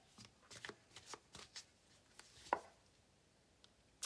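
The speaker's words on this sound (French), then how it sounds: "Je vais tirer une dernière carte." Tarot cards are shuffled and drawn, giving faint, close riffling and soft slapping taps in uneven bursts, with one sharper tap near the middle.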